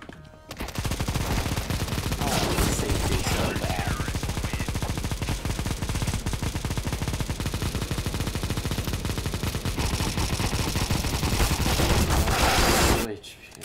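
Rapid, continuous automatic AK rifle fire in the video game CS:GO crackles loudly and densely for over ten seconds, nearly unbroken bursts filling the scene.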